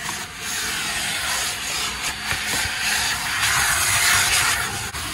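Suction from a car wash vacuum nozzle: a continuous loud airy hiss with scraping, rubbing fluctuations as the nozzle moves, close up and steady throughout.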